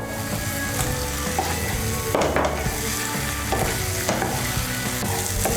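Fried eggs being stirred into a pan of tomato ketchup and soy sauce for chilli egg, with a steady sizzle and repeated scraping stirs, close and fairly loud with no talk.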